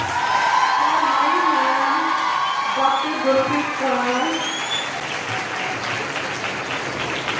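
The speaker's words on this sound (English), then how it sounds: "that's a big round of applause" Applause with some cheering from the audience at a menstrual health and hygiene workshop at a government girls' college, steady and fairly close, while a voice speaks over the clapping.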